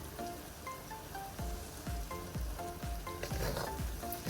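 Dal sizzles steadily in oil in a pan during the making of raw mango rice, a constant close crackling hiss with scattered spattering pops and faint stirring scrapes, with no talking.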